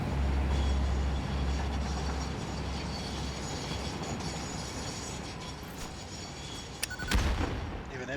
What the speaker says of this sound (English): It's having trouble stopping the train.